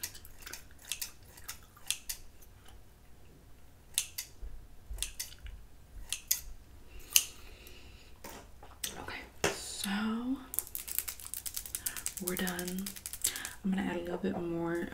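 Scissors snip hair in a close ASMR haircut setting, a string of crisp little clicks and cuts scattered over the span, with soft speech and mouth sounds over parts of it, including gum chewing.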